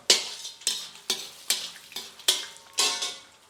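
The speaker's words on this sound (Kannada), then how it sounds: "ಒಂದು ಸಣ್ಣ ಉರಿಯಲ್ಲಿ ಇದೆಲ್ಲ ಫ್ರೈ ಆಗ್ಬೇಕು" A spoon stirs a tempering of dried red chillies frying on low flame in a sizzling pan, in regular strokes, about six scrapes over a steady crackle of frying oil.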